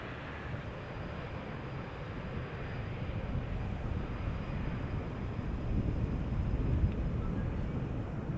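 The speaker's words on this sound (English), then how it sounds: "There's a KLM style landing, keeping up the speed." A KLM airliner landing at Schiphol Airport, heard as a steady, broad roar of engine and rushing air that holds even and fairly faint throughout, with no voices.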